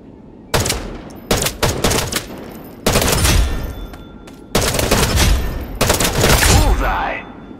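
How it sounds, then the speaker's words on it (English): Gunfire on a shooting-training range in the video game Wild Assault: repeated loud bursts of automatic fire in several separate volleys, close and sharp, with short pauses between them. "Check your weapon and get ready for the shooting training."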